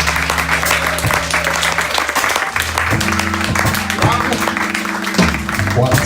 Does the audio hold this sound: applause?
yes